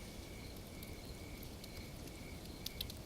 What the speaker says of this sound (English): The cicadas and the owls and other nighttime animals.